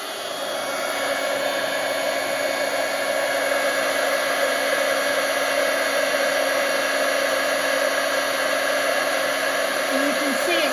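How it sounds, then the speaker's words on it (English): An embossing heat tool blows hot air in a crafting setup, a loud, continuous whirring hiss with a steady whine that holds unchanged close by from start to finish. "I do have my heat tool ready to go here"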